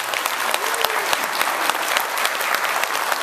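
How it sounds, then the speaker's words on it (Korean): A church congregation applauds graduates of a 14-week one-to-one discipleship Bible study course, producing loud, dense, continuous clapping with crisp individual claps throughout. "여러분 박수로 격려해 주시고"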